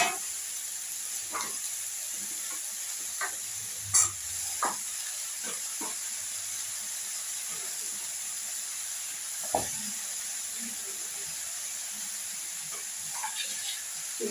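Spinach dropped into a frying pan for fish-head chochchori cooked with salt, green chillies and dried chillies gives a soft, steady sizzle and hiss, with occasional light clicks and clinks of a utensil stirring.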